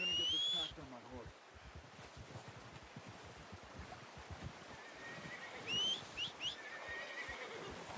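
A horse in Red Dead Redemption 2 gives a loud whinny at the start, then several shorter neighs follow later over a steady wash of wind and outdoor ambience, with low thudding movement in between.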